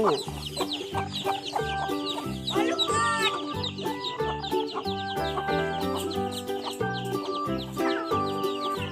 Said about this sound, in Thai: ไก่เล็ก ไก่เล็ก ไก่เยอะแยะเลยเพิ่งฟักใหม่